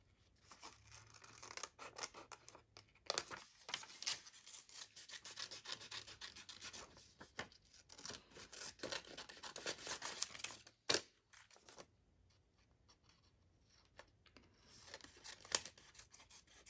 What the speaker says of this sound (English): let me just cut this side out of the butterfly